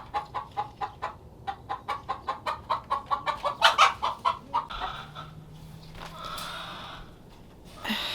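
Chickens cluck in a quick rhythmic series of calls, fairly close, followed by softer scratching and rustling noises.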